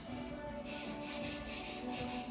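Sandpaper rubbed lightly along the side of a glued, repaired ceramic piece during kintsugi work, a steady close scratchy rasp in short repeated back-and-forth strokes, alone without talk.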